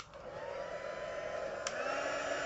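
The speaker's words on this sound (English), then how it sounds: "I'm going to heat this with the heat gun real quick just for the video." Heat gun blowing to dry ink on stamped paper, a steady close whine and airy rush with a constant tone, running alone without talk.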